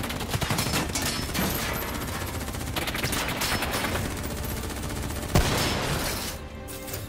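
Sustained rapid gunfire in Call of Duty Black Ops III, dense bursts and overlapping shots running throughout at steady loudness, with a sharper single blast near the end.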